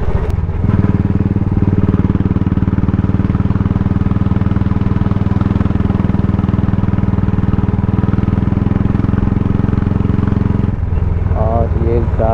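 Motorcycles and cars ride a single-lane road toward Parnera Hills on a busy Sunday morning, with a steady close engine drone running the whole time and faint voices beneath it.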